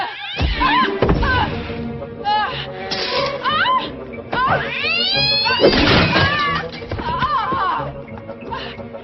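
A cartoonish cat meows and caterwauls repeatedly in a comedy film scene, loud rising and falling yowls mixed with thumps and whacks, with voices talking over parts of it.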